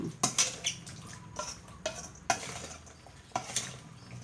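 Banana squid salad with sliced shallots and garlic being tossed in a bowl, giving soft scraping and clinking utensil strokes at an uneven pace, close up and fairly quiet, with no talking.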